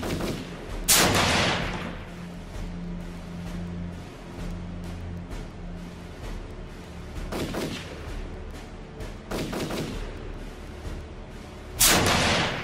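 Gunfire in combat footage, with a few loud, sharp shots and sporadic booming reports spaced several seconds apart over a constant outdoor rumble and background drone.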